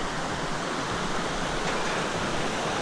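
A river at Pamulaklakin Trail in Subic rushes steadily, a dense, continuous broadband wash with no breaks and no voices.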